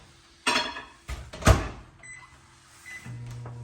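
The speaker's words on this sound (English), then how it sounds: "Actually, Melissa, I'm going to stick that back in the microwave." A microwave oven melting butter for pecan pie bars starts up with a few clunks and a beep, then settles into a low steady hum near the end, heard close with no talking.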